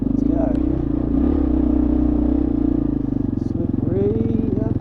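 A KLR650 motorcycle climbing a slippery dirt hill, its engine holding a loud, close, steady throbbing note that pulses and strains under load, with a voice talking over it.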